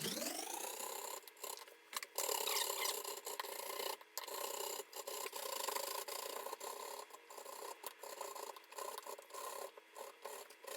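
Rhythmic rasping strokes of a vegetable head being grated by hand, probably on a box grater, for rice-textured vegetable fried rice, close and steady with short gaps between the bursts, no talking.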